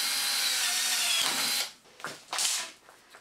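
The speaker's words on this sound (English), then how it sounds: "And then I'm going to drill a hole further down for the tube to exit." A power drill bores a hole for a tube to exit, whining loud and steady for about a second and a half before cutting off, followed by two short scraping bursts.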